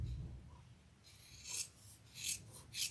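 Fabric for a Louie waist pack is trimmed with a few rasping scissor strokes, soft and close, in a quiet room.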